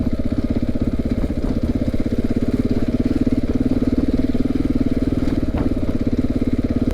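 A KTM 690 motorcycle engine on a rocky off-road trail runs at a low steady pace, its rapid even pulsing loud and near for the whole stretch.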